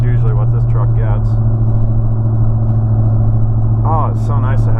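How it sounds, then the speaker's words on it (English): The loud exhaust of a 2013 Ford F-150 pickup drones as a deep, steady rumble from inside the cab while driving, with someone talking briefly over it at the start and near the end. "The exhaust is kind of loud, as you guys can probably hear."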